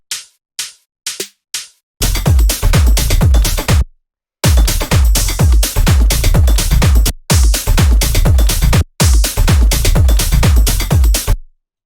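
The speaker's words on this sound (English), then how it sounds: "We have this little snare, which if I play that with the hi-hat, you'll hear what it's doing." A tech house snare plays together with a hi-hat in a steady, punchy loop, loud and alone, after a few sparse opening hits and with short gaps between repeating bars.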